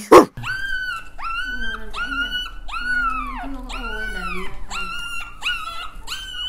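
Five-day-old poodle puppies whimper and squeal in a continuous chorus of high, wavering cries, close and fairly loud, after a brief knock at the start.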